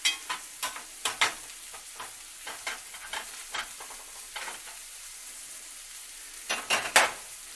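Garlic and shrimp stirred in a hot pan, with a soft steady sizzle under scattered scraping strokes of a utensil against the pan, clustering more densely toward the end.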